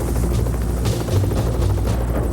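Steady, loud helicopter rotor thudding with a dense engine roar, continuous and close throughout, no voices.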